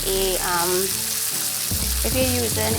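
A rack of lamb sears in a very hot cast iron pan, a steady loud sizzle running throughout under a person talking.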